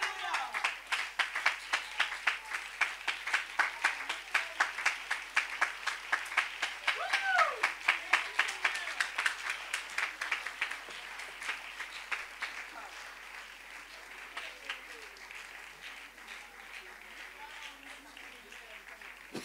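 A church congregation stands and applauds in praise of Jesus, with dense rhythmic clapping that stays steady and loud for about ten seconds, then thins and softens. Occasional voices call out over the applause.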